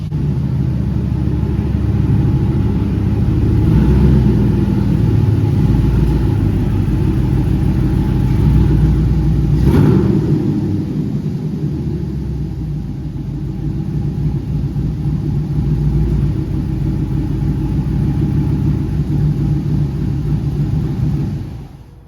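A Chevy 5.3 V8 in a Silverado, fitted with a TSP Chopacabra cam, idles with a deep, loud, steady rumble for the whole stretch, easing slightly midway before picking back up.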